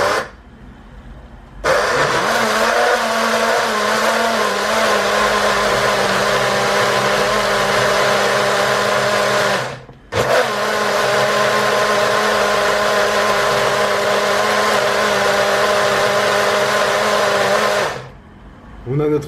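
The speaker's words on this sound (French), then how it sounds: "Et on va maintenant tout simplement mixer tout ça." A blender whirs through protein pancake batter in a home kitchen, a loud steady motor drone running in two long bursts separated by a short pause, then cutting out.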